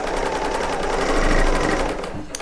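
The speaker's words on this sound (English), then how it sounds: "I'm using my Bernina L890 serger to make this" A Bernina L890 serger runs continuously as fabric for a decoupage trip quilt feeds through, a loud, rapid, even mechanical stitching chatter that stops abruptly near the end.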